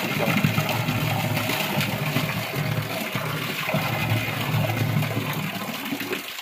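Water is drawn up from a cold, 200-foot-deep well and gushes and splashes in a steady, fairly faint rush that carries on without a break.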